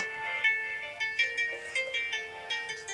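A phone ringtone plays a repeating electronic melody in short regular bursts, fairly quiet and steady, with no voices.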